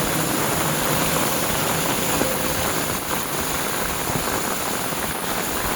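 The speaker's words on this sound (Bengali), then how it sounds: "এই বৃষ্টির মধ্যে ভিজে ভিজে আইছি। পুকুরে পানি পড়তেছে কেমন।" Rain falls steadily onto a lotus and water-lily pond, a dense continuous hiss of drops striking the water surface, close and even, with no pauses.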